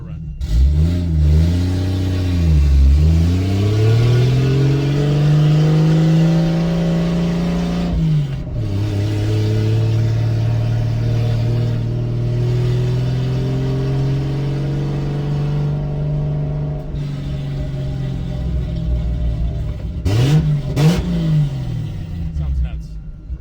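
A Lexus IS300 engine revs and accelerates hard on a first drive, its loud rising and falling engine note sweeping through gear changes up close, with another sharp rev burst near the end.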